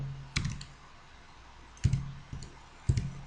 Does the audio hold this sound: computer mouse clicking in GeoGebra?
yes